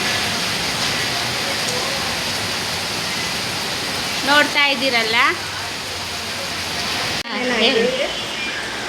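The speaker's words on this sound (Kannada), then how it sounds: "ಮಳೆ ಅಂತೂ ಜಾಸ್ತಿ ಬರ್ತೈತೆ. ನೀರು ನೋಡ್ಬೋದು ನೀವು ಯಾವ ಥರ ನೀರು ಹೋಗ್ತೈತೆ ಅಂತೇಳಿ." Constant heavy rush of rain and flowing water in Madhugiri fills the background, while a person speaks briefly over it near the middle and end.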